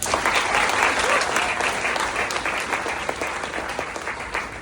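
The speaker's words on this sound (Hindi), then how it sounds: "इनके लिए जोरदार तालियां हो जाए।" Audience applause at a direct selling business seminar in India, dense steady clapping from a crowd filling the whole stretch, fairly loud and close, easing slightly toward the end.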